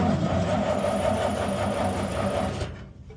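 An 80-year-old Chevy truck engine cranking over steadily on the starter, loud and close with a fast, even churning rhythm, without catching, then cutting off abruptly near the end.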